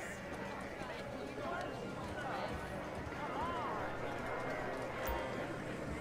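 Galloping horse hooves from a horse race in the Inside Track lounge of the Diamond Casino in GTA V, a fast rumbling patter under crowd chatter and a voice speaking over it.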